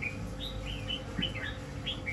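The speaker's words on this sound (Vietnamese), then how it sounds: "Chim đã hót khá là ok rồi, hót nhiều lắm." A caged male mi songbird sings in Vietnam, giving a string of clear, high whistled notes and short trills at close range over a steady background hum.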